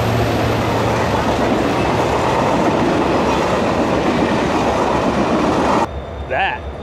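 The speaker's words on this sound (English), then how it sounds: "we'll see if we can get a clip of the express train coming by" Alaska Railroad express train rushing past close by, a loud continuous roar of rolling wheels and cars that cuts off abruptly, then people speak.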